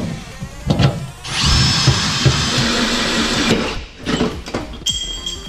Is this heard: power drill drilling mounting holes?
yes